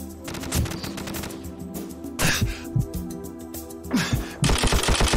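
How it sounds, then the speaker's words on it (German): Rapid bursts of video game gunfire crackle in uneven volleys, loud and close, with short gaps between them and a denser burst at the end. "Der letzte Schuss gerade eben von No-Scope"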